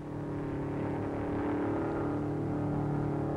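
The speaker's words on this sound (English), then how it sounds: "The car is running faster now" An MG record car running at the Bonneville Salt Flats, its engine a steady, strong mechanical drone with a rich low harmonic hum that builds slightly in intensity, with no voices.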